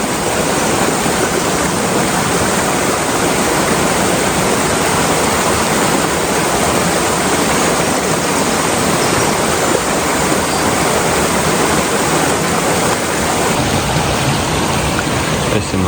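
A mountain river rushes through dense forest in Racha, a loud, unbroken roar of churning water that fills the whole stretch evenly with no pauses.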